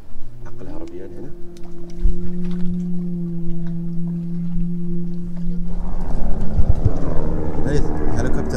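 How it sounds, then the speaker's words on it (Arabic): Helicopter overhead during a fishing outing, a steady droning rotor hum with a strong low tone that swells and grows rougher toward the end, while people talk nearby. "هليكوبتر"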